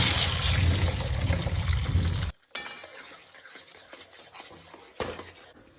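Beaten eggs poured into hot oil in a kadai give a loud, broad hiss and sizzle that cuts off abruptly after about two seconds, followed by quieter frying crackle and light clinks.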